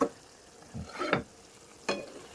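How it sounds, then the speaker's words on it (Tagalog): Meat sautéed with tomatoes sizzles in a pan, with a few brief bursts of stirring and scraping over a quiet frying hiss, close up and without talk. "Tingin ko luto na tong karne natin na nagisa na siya sa kamatis."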